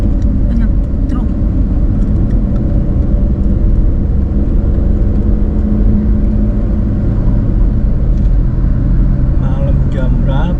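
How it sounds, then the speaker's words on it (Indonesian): Steady, loud road rumble from a vehicle travelling the southern route between Jogja and Jakarta at night, with heavy engine drone and passing traffic that fits many trucks on the road, and people talking over it throughout. "Banyak truk."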